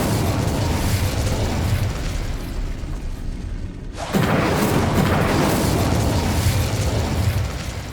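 An Incendio fire spell is cast in Hogwarts Legacy, a sudden loud whooshing burst of flame about halfway through that roars on over a dense rumbling background.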